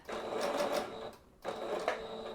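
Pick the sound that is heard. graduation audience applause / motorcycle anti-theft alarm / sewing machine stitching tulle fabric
sewing machine stitching tulle fabric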